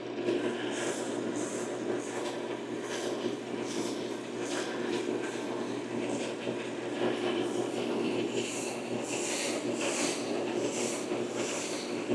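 Sandpaper of 240 grit rubbed against a wooden rolling pin, a rhythmic repeated scratchy rasp of steady back-and-forth strokes, close and moderately loud.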